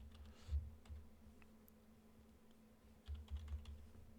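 A handful of soft clicks on a computer keyboard as a short command is typed, two brief bursts of keystrokes separated by a quiet pause, close but faint.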